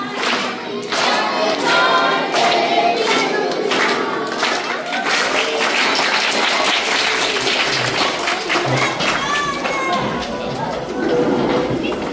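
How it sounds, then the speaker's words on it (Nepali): Students applaud steadily for a birthday at a school sweater distribution event, with dense, sustained clapping and voices mixed in throughout. "सबैले उठेर ताली बजाएर ह्याप्पी बर्थडे भनिदिनको लागि पनि"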